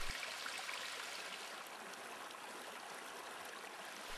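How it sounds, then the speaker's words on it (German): Mountain streams in the Lake District pour into a lake with a steady, broadband rush of flowing water, close and continuous, with no voices. "Unzählige Wasserläufe suchen aus den Bergen kommend ihren Weg in den tiefblauen See."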